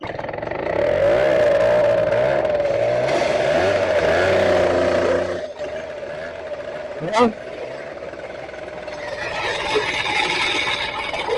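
A small two-stroke motorcycle engine revs with a rising and falling buzzy whine, then drops away, leaving a rough idle and background noise.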